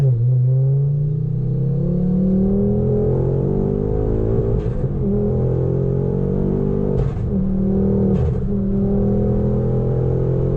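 A Ford Focus RS Mk2 tuned to 430 hp on the front axle revs hard at high rpm while driving, its loud engine climbing steadily with brief pauses at shifts around 4.5, 7 and 8 seconds, no talk.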